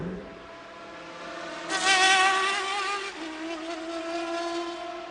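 Courage Peugeot race car, number 18, at the 2002 24 Hours of Le Mans, its engine droning steadily with a rising, louder whine partway through as it passes, then settling to a lower sustained tone.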